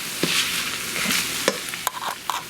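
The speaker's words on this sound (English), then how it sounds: "you just keep stirring this up until the onions are pretty soft" Onions and bacon frying in a pot for homemade Zuppa Toscana, a steady close sizzle broken by scattered scrapes and clicks of a spoon stirring.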